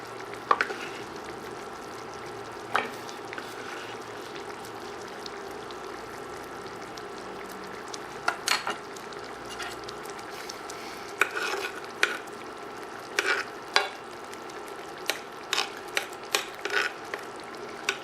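Garlic sizzling in a pan for a northern Italian pasta sauce, a steady frying hiss broken by scraping stirs and clinks of the utensil against the pan, growing busier toward the end.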